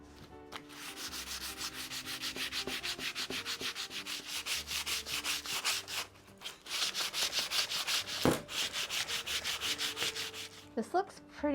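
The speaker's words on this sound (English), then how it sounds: "I'm gonna start sanding" Steady rhythmic scratching of sandpaper rubbed back and forth by hand on a found piece of wood being made into a staff, close and continuous with a brief pause midway, no voices.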